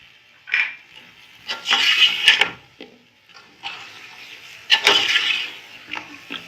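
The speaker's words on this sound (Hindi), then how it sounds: "अच्छी तरह से हमने मसाले के साथ इसको चिकन को भूनना है" Chicken being fried with korma masala in a pot for chicken korma pulao, heard as bursts of stirring, spoon-on-pot clatter and sizzling scrapes that come and go in irregular clusters, fairly close and without talk.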